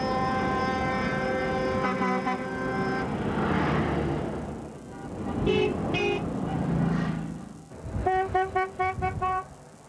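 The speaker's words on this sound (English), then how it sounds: "Before long, it was bumper-to-bumper traffic on the bridge." Heavy bumper-to-bumper car traffic on the Confederation Bridge, Prince Edward Island, on its 1997 opening day, with a steady engine rumble overlaid by repeated car horn toots, ending in a rapid burst of close, rhythmic honking.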